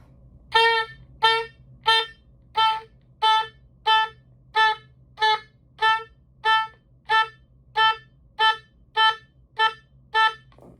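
An oboe plays a string of short, evenly spaced repeated notes, each clipped off abruptly by the tongue stopping the air, about fifteen in steady rhythm.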